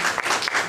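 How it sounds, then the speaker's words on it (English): A short burst of applause from a live music cafe audience honoring the show's promoters, dense steady clapping filling the whole moment at moderate loudness. "I want to say a big round of applause to our promoters, Bob and Allison Hall"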